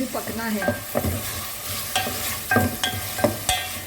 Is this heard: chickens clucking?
no